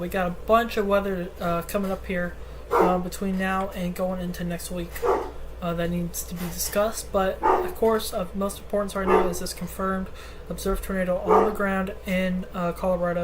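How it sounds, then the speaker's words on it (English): A large dog barks indoors in a living room, faint and partly buried beneath steady, continuous talking by a man. "There's a big dog in the living room that's barking."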